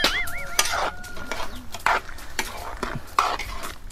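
Bihon noodles stirred in a hot pan, the utensil scraping and tossing in uneven bursts over a soft sizzle, with birds chirping nearby.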